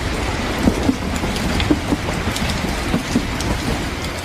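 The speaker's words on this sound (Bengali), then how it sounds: "6:40 আমাদের ট্রেনটা এখান থেকে রওনা দিল।" Parabat Express passenger train pulling out on its Dhaka to Sylhet run, with a steady rumble of the carriages and a few faint, evenly spaced wheel clacks, heard from on board with no talking.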